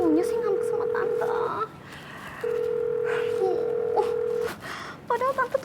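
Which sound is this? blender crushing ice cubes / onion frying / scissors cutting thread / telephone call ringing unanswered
telephone call ringing unanswered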